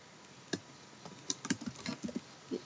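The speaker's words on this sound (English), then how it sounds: "you type in your phrase or your words" Keys on a computer keyboard are tapped in an uneven run of light, close clicks, faint and quick, with no voices.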